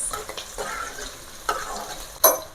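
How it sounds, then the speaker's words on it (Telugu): Chopped onions frying in a pan for gongura chicken curry, a steady soft sizzle with faint stirring scrapes and a couple of sharper clatters near the end, no voices. "సౌండ్ భలే ఉంటుంది కదా. ఆనియన్స్ మంచిగా ఫ్రై అవ్వాలి గైస్."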